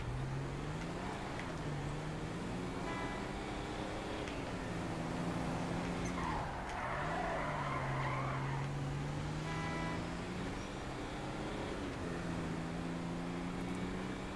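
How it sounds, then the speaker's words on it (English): An SUV engine in GTA 5 drones with a deep diesel-like tone, rising and falling steadily as it drives through an industrial area, with a brief louder rush partway through. "This thing sounds like it's got a fucking Detroit diesel in it."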